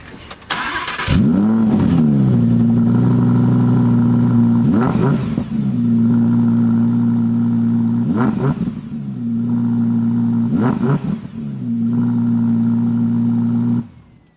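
Audi R8 engine started and revved while stationary, with an opening burst followed by repeated sharp revs and crackling exhaust pops over a loud, burbling idle, heard close up.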